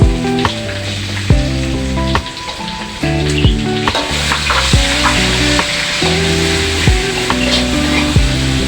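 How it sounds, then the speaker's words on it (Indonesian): Ground spice paste fries in a pan after garlic and shallots for a Padang-style tofu dish, a steady loud sizzle broken by repeated scraping stirs of a spatula, close up with no talk. "kita goreng bumbu yang telah digiling tadi"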